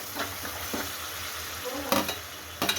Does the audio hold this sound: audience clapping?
no